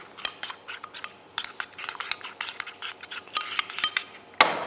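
Chicken and salt being mixed in a pot, with a rapid run of close metallic clinks and scrapes from utensil against pot, no talk.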